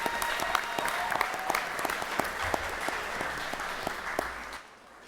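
An audience in a school board meeting room gives a sustained round of clapping for a high school basketball team, a dense, even applause that fades out near the end.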